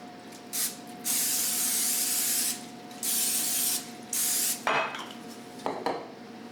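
Several hissing bursts of spray oil misted over rolled cinnamon roll dough, each lasting a second or so, close and fairly loud, followed by a couple of light clinks of a can or pan.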